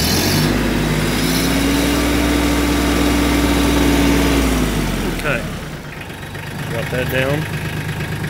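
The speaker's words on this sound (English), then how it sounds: "Hear the motor? To me, it's a little bit quieter motor." A Mahindra compact tractor's Mitsubishi diesel engine idles steadily, a fairly quiet low hum that holds for about five seconds before dropping away, with someone talking over it.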